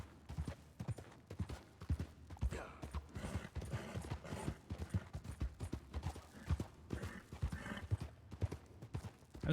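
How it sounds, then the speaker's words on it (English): Horse hooves clip-clop in Red Dead Redemption II as the horse is ridden toward a dark train tunnel. The quick, rhythmic hoofbeats sound close and fairly loud, with steady scuffs under a low rumbling background. "I think that's the horse making that noise."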